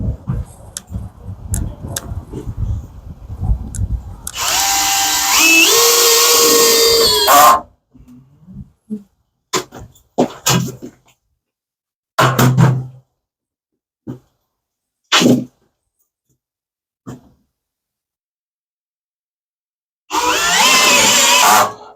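A power drill drives hinge screws into a security door for French doors, in two long whirring bursts at the start and end, with short clicks and brief spins between them.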